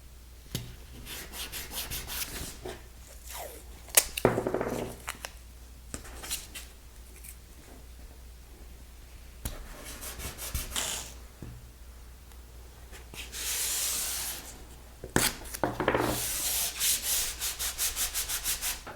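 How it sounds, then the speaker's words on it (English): Blue painter's tape is pulled and stretched across a wood veneer seam, making repeated ripping, rubbing and scraping bursts in close, quiet surroundings. "take some blue painter's tape. I'll start at one end, get the seam nice and tight, and just stretch this tape across"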